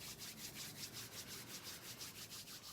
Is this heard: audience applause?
no